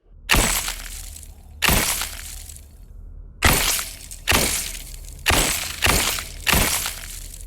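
Icy Cold Bullet pistol shots from the Wizard with a Gun video game, six loud crystalline shattering bursts in irregular pairs, each with a bright glassy crack and a short ringing tail, with no talking.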